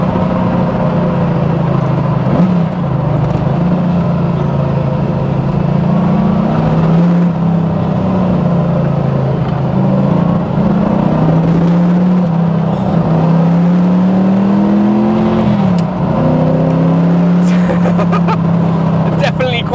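A De Tomaso Pantera's V8 drones steadily while cruising in fourth gear, a low engine hum with shifting pitch running the whole time beneath someone talking inside the car.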